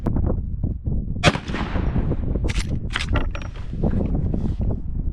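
.360 Buckhammer rifle shots at a 50-yard range ring out as a few sharp, loud, close reports within a few seconds, each followed by a short echoing tail.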